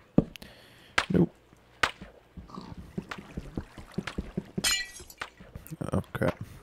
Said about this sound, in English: I'm gonna have to knock out a couple of those little glass panes up there